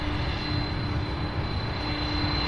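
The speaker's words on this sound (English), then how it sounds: "we have two MD-11s and a 747 lining up and taxiing next" Jet engines of MD-11 and Boeing 747 freighters taxiing at Louisville's SDF airport give a steady, broad roar with a faint whine, continuous and fairly distant, with no talking.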